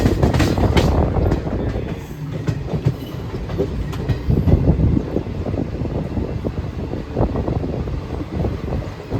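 Lucknow–Meerut Rajya Rani Superfast Express train running through heavy rain, heard from on board as a loud, steady rumble with a rolling clickety-clack of wheels and wind noise throughout.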